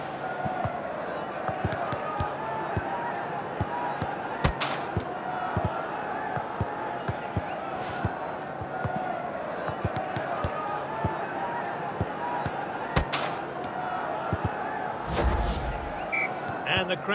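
Stadium crowd noise from the Dream League Soccer 2019 football video game, a steady loud roar of cheering fans running throughout, with scattered thuds and a commentator voice over it.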